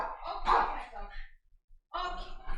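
Attack dogs bark and yip excitedly in a short burst, then again after a brief pause, moderately close, with voices mingled in among the barking.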